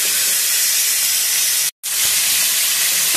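Drumsticks and eggplant frying in hot oil make a constant loud hiss and sizzle, broken by one brief gap before resuming steadily.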